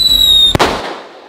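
A whistling King Thunder firework, a consumer piece priced at Rp80,000, shrieks with high steady whistle tones before a single sharp, loud blast that rings out and decays over about a second.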